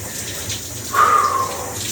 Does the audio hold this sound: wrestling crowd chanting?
no